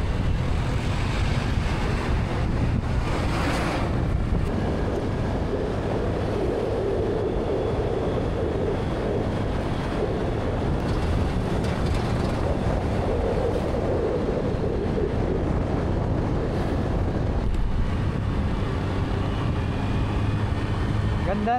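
Wind roaring past on a motorcycle road trip along the coast of northern Cebu, a loud continuous rush with engine rumble underneath throughout.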